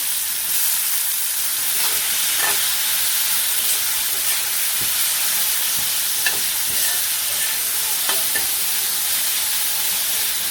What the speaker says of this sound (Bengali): এই যে আলুটা কিছু সময় আর কি ভেজে নিলাম